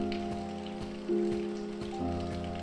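Steady rainfall in the video game If on a Winter's Night, Four Travelers, a continuous patter of drops with a soft musical tone running underneath.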